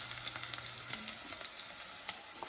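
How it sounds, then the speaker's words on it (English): Onions frying in a pan, a soft steady sizzle with faint crackles and small pops, quiet and close, with no one talking. "Onions are nice and cooking."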